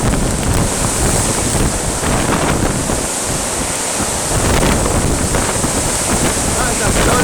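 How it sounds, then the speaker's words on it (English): A strong wind squall on the Isle of Arran near Lochranza roars loud and unbroken, with heavy buffeting on the microphone and a rushing, surf-like wash that eases briefly before surging back. "That's the strongest wind I've seen all year"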